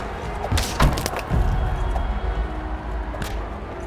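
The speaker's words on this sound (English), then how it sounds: "Oh, I destroy his shield." A wooden shield splinters and breaks apart in the gladiator combat game We Who Are About To Die, a few sharp cracking impacts close together, then a quieter crack near the end over a low rumbling background.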